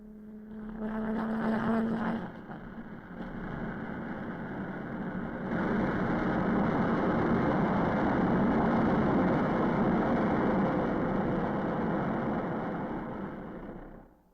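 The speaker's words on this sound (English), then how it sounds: "Engine run-up was a necessary prelude to flight test" A General Electric J-79 jet engine on a Lockheed F-104 runs up on the ground before flight testing, a heavy roar that swells and holds steady for several seconds before easing off, with no talking.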